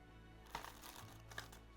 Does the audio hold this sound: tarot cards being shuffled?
yes